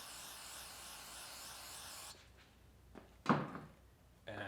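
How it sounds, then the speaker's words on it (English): Brake cleaner sprays from an aerosol can onto a Scotch-Brite pad during a Toyota 22RE engine rebuild: a steady close hiss lasting about two seconds, then a few hard knocks and clunks. "spray some brake clean on it"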